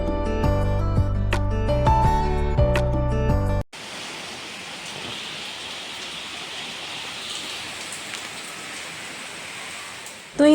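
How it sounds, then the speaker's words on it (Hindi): Heavy evening rain pours down steadily, a dense continuous hiss of drops on surfaces filling the scene for several seconds after a brief burst of music cuts off. "बट मैंने सोचा नहीं था कि इतनी तेज़ बारिश आ जाएगी शाम के टाइम"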